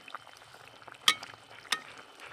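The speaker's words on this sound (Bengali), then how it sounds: "আর তরকারিটা দেখো কি পরিমাণে ফুটছে" A pot of curry with flat beans, potatoes and small fried fish simmers on the stove. Soft bubbling and faint frying hiss run throughout, broken by two sharp utensil clinks, and no one speaks.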